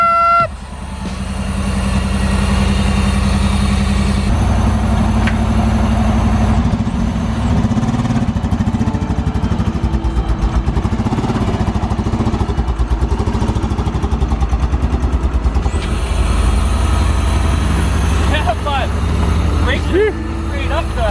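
A wrecked Ferrari replica car's engine is cranked and fires up after five years unused, settling into a loud, steady idle that runs throughout, with people talking over it.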